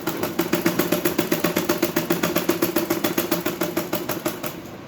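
Sewing machine stitching a lined suit, a fast steady mechanical clatter of needle strokes repeating evenly at close range, humming continuously with no voice over it.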